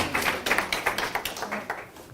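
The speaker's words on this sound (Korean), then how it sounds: "다 같이 박수로 하고." A church congregation claps together in praise before a lecture, a steady run of sharp, fairly quick claps from a crowd, close and evenly paced throughout, with no talking.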